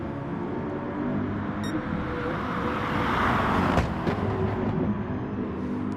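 GT3 race car engines in a video game endurance race at Lago Maggiore drone steadily with a rising whoosh as a car passes, moderately loud, with brief sharp clicks.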